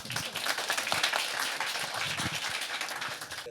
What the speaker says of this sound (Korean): 따뜻한 환영사를 해주신 김현성 회장님께 다시 한번 큰 박수 부탁드리겠습니다